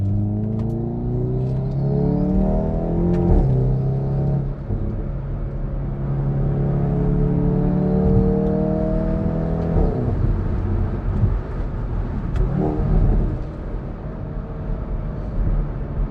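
Tuned Hyundai i30N stage 2+ with 333 hp being driven, its engine rising and falling through several revving pulls with gear changes, loud and close from inside the cabin, no talking.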